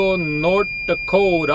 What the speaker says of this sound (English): That's my alarm for my low battery.